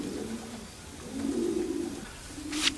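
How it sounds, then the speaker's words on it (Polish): A racing pigeon coos softly in low, drawn-out calls, repeated a few times close by against a quiet background. "No i jest pierwszy gołąb, sam jeden, jedyny."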